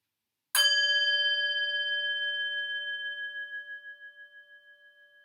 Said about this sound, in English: begin by ringing a bell.